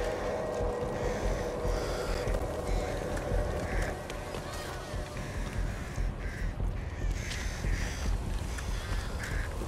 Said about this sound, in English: You scatter those birds